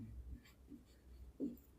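Faint scratching of a pen on paper while working through a math proof, a few soft strokes in quiet with a slightly louder scrape near the end.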